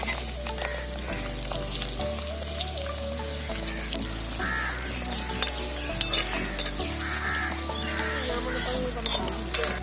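Curry leaves and chillies fry in hot oil in a home kitchen, with a faint steady sizzle and occasional stirring clinks, under a looping musical background.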